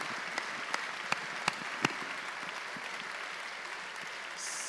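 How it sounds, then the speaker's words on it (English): Audience applause for a guest speaker at a university lecture series, steady and even throughout with a few sharp, loud claps standing out near the start. "a warm round of applause for Mr. Bouée, please"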